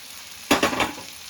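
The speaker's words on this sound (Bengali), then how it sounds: "আমার চালের সঙ্গে, মশলার সঙ্গে আলু আর পটলটা একটু নেড়ে নিয়েছি" Fried potato and pointed gourd pieces being stirred into rice and spices in a hot pan for an aloo potol dalna with Gobindobhog rice, a brief burst of sizzling and scraping strokes after a quiet start.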